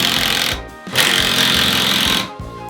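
A power drill whirs loudly and up close in repeated bursts, backing screws out of wall battens during a bathroom renovation. There are short pauses between the runs.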